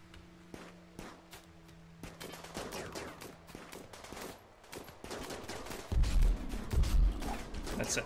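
Gunfire crackles during a raid in the video game RimWorld, with rapid bursts and single shots that get denser and heavier toward the end.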